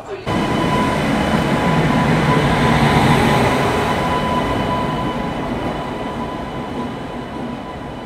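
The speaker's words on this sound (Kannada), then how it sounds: "Rani Chennamma express depart ಮಾಡಿಬಿಟ್ಟಿದೆ KSR Bengaluru city railway station ಇಂದ" The Rani Chennamma Express rumbles steadily as it departs KSR Bengaluru City railway station, with a low mechanical drone and a faint tonal whine, the noise slowly easing as it moves off.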